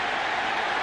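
Roar of a college football stadium crowd at an Iowa at Ohio State game cheering a run, a loud, steady wash of cheering and applause.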